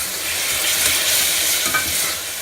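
Green peas fry in a hot pan while being stirred, a steady broadband sizzle with scraping stir strokes, close and continuous for the whole span, no voices.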